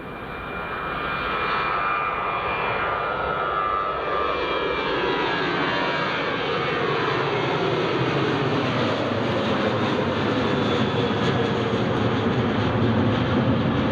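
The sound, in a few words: Jet2 Airbus A321neo departing Edinburgh Airport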